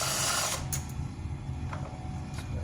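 A power tool spins out the three transmission range sensor bolts on a 62TE transmission in a 2011–2020 Dodge Caravan or Journey, giving a steady close whir with brief higher bursts and no talk over it.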